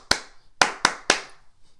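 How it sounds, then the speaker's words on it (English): Four sharp hand claps in a short rhythm pattern of body percussion, one clap, a pause, then three quicker ones, close and crisp in a quiet room. "So I might do a clapping pattern."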